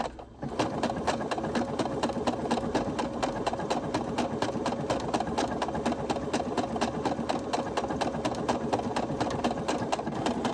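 A sewing machine stitching a quilted tote bag runs steadily and loudly, a fast even rattling whir that holds continuously throughout without talk.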